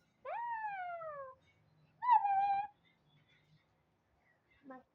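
A cat meows twice, a long drawn-out call followed by a shorter rising one, close and clear, with a faint brief vocal sound at the end and quiet background between.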